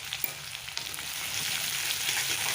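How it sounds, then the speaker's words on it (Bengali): Chopped garlic, whole green chilies and onion frying together in a pan, a continuous crackling sizzle that thickens and grows louder toward the end, with a few light taps of a utensil. "রসুন কুচিটা আর কাঁচা লঙ্কা দুটা গোটা দিয়ে দিয়েছি পেঁয়াজ কুড়িটাও দিয়ে দেবো সব একসঙ্গে দিয়ে একটু ভাজা করে নিই"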